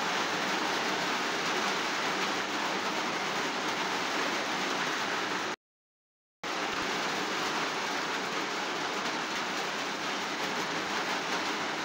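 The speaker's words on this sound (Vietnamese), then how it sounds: "Trời đang mưa nữa." Rain falls as a loud, unbroken broadband hiss, cutting out completely for about a second midway before resuming just as steadily.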